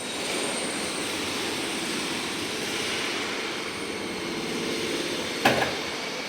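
A European Plant MGP welding positioner, 1.2 tonne, tilts back down with a steady mechanical drone and motor hum, a brief clunk near the end, no talk.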